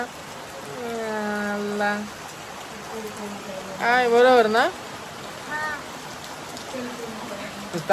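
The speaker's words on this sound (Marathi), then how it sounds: "राग येतो या पावसाचा" Steady rain falls during a Ganesh idol's arrival in the Konkan countryside, a constant soft hiss that runs the whole way under loud, lively conversation.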